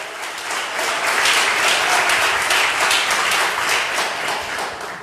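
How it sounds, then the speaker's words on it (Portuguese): A church congregation breaks into sustained applause during a sermon, a dense wash of many hands clapping steadily for several seconds, loud and close with no talking over it. "Dê um aplauso a Jesus."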